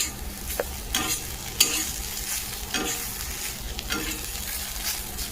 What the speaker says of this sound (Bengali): আলু উচ্ছে ভাজা হয়ে গেল,